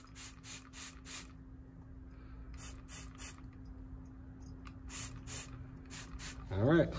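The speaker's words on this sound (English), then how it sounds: "I do have a spray bottle with some water." A spray bottle of water pumped in quick bursts of three or four hissing sprays, pausing between groups, close and clear with a faint hum beneath.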